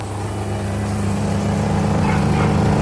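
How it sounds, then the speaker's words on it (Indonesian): A Sharp Super Aquamagic ES-T95CR washing machine's spin-dryer motor running after repair, a steady close-up droning hum with a low tonal whine that swells slightly over a few seconds. "Motor pengeringnya berputar ya"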